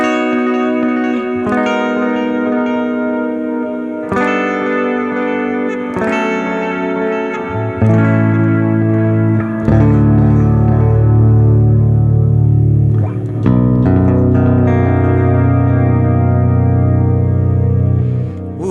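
Clean electric guitar chords through a Neural DSP Abasi plugin with a clean cab, delay and reverb, strummed in several ringing sustained hits with lush echoing tails, played alone and fairly loud.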